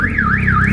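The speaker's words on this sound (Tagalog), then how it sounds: "Nag-alarm." A car alarm wails steadily, its pitch sweeping up and down in a regular cycle, loud and close, with no other sound.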